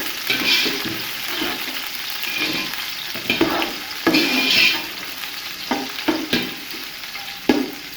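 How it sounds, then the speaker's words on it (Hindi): Onions frying and being stirred in a pan for a matar aloo pulao, a steady close sizzle broken by repeated louder scraping stirs of the spoon, with no voices. "अब इसमें ऐड करूँगी मैं प्याज, इसको मिक्स करेंगे।"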